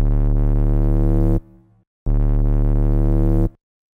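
Steady, pure electronic tones from two Serum synthesizer sine wave oscillators with rich harmonics sound twice, each held about a second and a half before cutting off, separated by a short silence.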